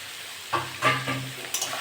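Shrimp, greens stems and pumpkin being stir-fried in a pan: a soft sizzle broken by a few brief spatula scrapes and stirs.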